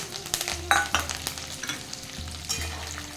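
Curry leaves frying in hot oil with chana dal and peanuts for paper poha chiwada, stirred over low flame: steady crackling sizzle with scraping stir strokes and a few sharp pops, close and alone.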